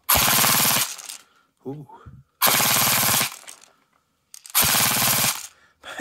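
A Tokyo Marui Scorpion Mod. D electric airsoft gun fires full auto in three loud, close bursts of rapid mechanical buzzing, each lasting under a second, separated by pauses with brief spoken exclamations.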